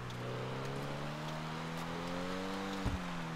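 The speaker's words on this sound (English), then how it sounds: "the car's loud and you won't be able to hear me talking over the car" A loud video-game car engine drones steadily throughout, with a low rumbling note and rising harmonics like a sustained rev, plus a brief bump near the end.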